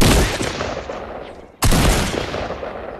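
Video-game gunfire crackles in dense, loud bursts through about one and a half seconds, breaks off briefly, then resumes in another heavy volley close by.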